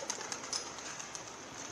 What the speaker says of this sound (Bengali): ঝাঁকে ঝাঁকে পায়রা